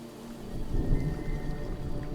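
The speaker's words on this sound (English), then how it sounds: "Oh, she is thundering." Heavy rain with a deep rolling thunder rumble in Detroit: Become Human, a loud steady downpour with low booming swells and no talk.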